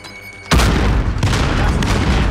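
Grenade blast in Call of Duty Warzone on a Cold War map, a sudden loud boom that rolls into a sustained roar and a second thud, close and dominant with no talking.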